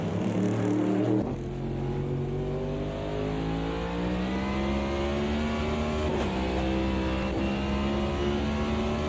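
Race car in a sim racing video game at Montreal on a Roadmaster Series round, engine droning loud and close, briefly lifting off the throttle with a drop in pitch before accelerating steadily again.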